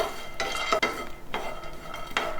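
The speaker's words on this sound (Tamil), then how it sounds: "கூடவே பிஸ்தா, இது ரெண்டையும் சேர்த்ததுக்கப்புறம் இதுவும் நல்லா அதே மாதிரி லோ ஃப்ளேமில் வச்சு வறுத்துக்கோங்க" Nuts and pistachios dry-roasting in a pan over a low flame, heard as repeated scraping and clinking of a spatula against the pan in a few strokes, with a faint sizzle in between.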